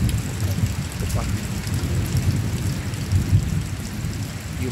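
A thunderstorm with heavy steady rain and low rolling thunder beneath it, a loud continuous wash of drops with deeper rumbles swelling at times.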